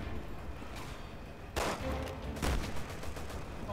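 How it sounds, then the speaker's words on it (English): Two loud, sharp sniper rifle shots in the Resident Evil 6 video game, spaced about a second apart over low background rumble. "That dude's got a big ass sniper rifle."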